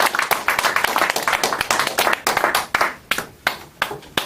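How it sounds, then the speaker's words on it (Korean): Live audience applause at a Korean civic lecture gathering, a burst of many hands clapping that thins into scattered, distinct claps toward the end. "박수."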